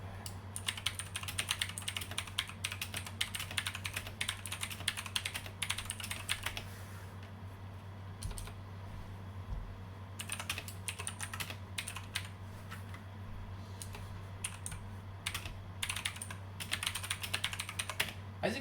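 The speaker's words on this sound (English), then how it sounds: "let's go ahead and do a little typing sample using this keyboard" Rapid typing on a cheap Five Below gaming keyboard with blue mechanical switches gives sharp, close clicks in quick irregular bursts, with a few brief pauses between runs. A low steady hum runs underneath.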